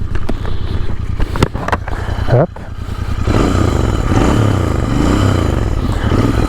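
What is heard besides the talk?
Royal Enfield Interceptor motorcycle engine at low throttle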